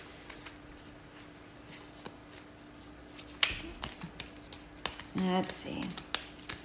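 Tarot cards being shuffled and handled: scattered soft taps and flicks, then a short burst of riffling near the end, close and fairly quiet, with a voice speaking briefly.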